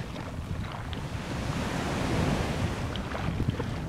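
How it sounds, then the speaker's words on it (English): Soft ocean-like rushing heard through a conch shell held to the ear, a faint, even whoosh that swells slightly and ebbs without any voices. "I can hear the waves."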